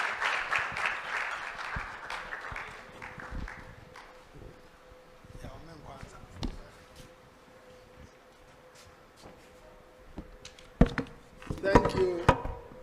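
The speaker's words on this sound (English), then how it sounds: "let's give Doc a round of applause." An audience at a dental practice leadership seminar applauds a speaker with a loud burst of clapping that fades after a few seconds. Quieter room sounds, voices and a few sharp knocks follow.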